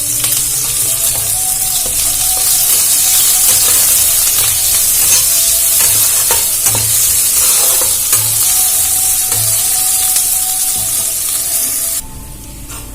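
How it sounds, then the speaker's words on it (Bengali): Chopped onion and green chili fry in hot white oil in a pan while being stirred. A loud, continuous sizzle runs throughout and eases off slightly near the end, with no talking. "আমি দিয়ে দেবো পেঁয়াজ আর কাঁচা লঙ্কা,"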